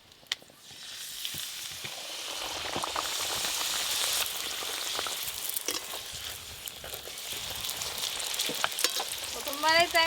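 Luchi puff and fry in hot oil, giving a dense, continuous hiss and crackle that swells and holds loud, with a few faint clinks near the end.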